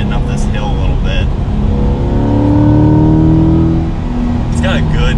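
A Chevrolet C8 Corvette engine revs and accelerates up a hill, a loud steady drone whose pitch climbs across the clip before easing back, with people talking briefly at the start and end.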